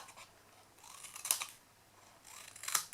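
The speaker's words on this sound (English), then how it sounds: "burnish and cut those wedges." Two crisp snips of scissors cutting scored and burnished cardstock wedges for a tinned candle box craft, spaced about a second and a half apart, close and fairly quiet with no talking.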